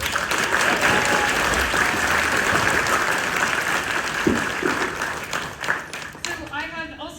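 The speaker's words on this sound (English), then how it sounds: "Can you give them another round of applause for that," Sustained applause from a large crowd at a high school winter band concert, dense and steady clapping that fills the space, with a voice starting to speak as it dies down near the end.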